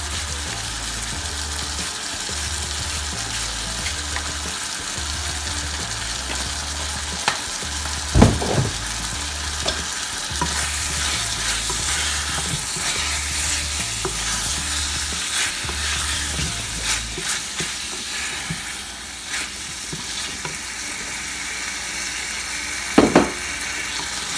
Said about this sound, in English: I'm going to cook covered until the pork is tender.